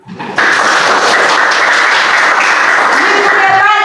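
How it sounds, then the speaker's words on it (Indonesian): A classroom of students claps hands together at a teacher's call, a loud, dense burst of clapping that starts abruptly and continues steadily to the end. "Tepuk tangan."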